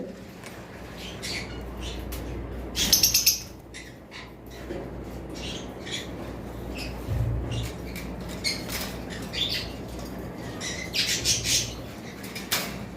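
Albino lovebirds kept as breeding pairs flap their wings in short, close bursts, with scattered squawks and chirps over a steady room hum.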